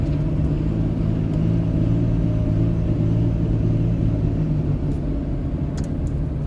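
An LB7 Duramax truck engine with a fuel problem and zero rail pressure is revved hard in neutral, a heavy, steady low rumble that holds close and loud throughout.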